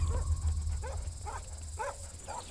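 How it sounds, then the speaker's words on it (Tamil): Dogs bark out in hilly forest country: a series of about five short, evenly spaced barks, somewhat distant and fairly faint over a low background rumble, with no speech. "என்ன நாய் சவுண்ட்லாம் கேட்குது?"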